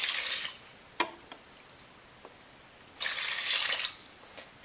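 Water is poured into a bowl of washed rice before microwave cooking: a splashing, trickling pour at the start, a few scattered drips, then a second steady pour partway through. It sounds close, with no talking.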